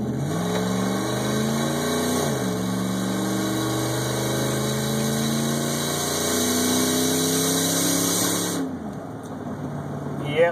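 A truck with a straight-piped exhaust accelerates hard on a county road, its loud engine note climbing through gear changes with rising harmonics for about nine seconds before easing off.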